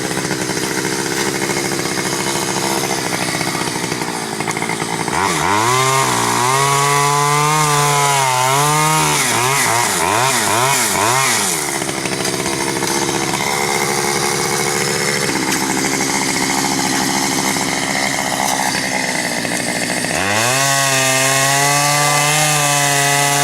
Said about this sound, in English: Okay, so I just cut the tops off with the chainsaw.